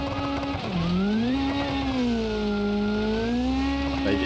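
Supercharged race car in BeamNG.drive time trials, engine droning and rising and falling in pitch with a loud whining sequential gearbox, close and continuous with no talking.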